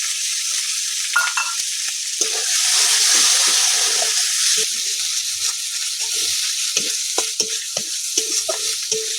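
A ground paste of mustard, poppy seed and cashew fries loudly with spices in a pan, a strong steady sizzle swelling midway, punctuated by repeated scraping and tapping of a spatula stirring.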